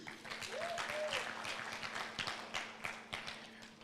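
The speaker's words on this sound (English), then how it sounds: "Let's give her a round of applause again." Scattered applause from a conference audience at a safe motherhood meeting, fairly faint and distant, with irregular individual claps over a low hum and a brief murmur of voices.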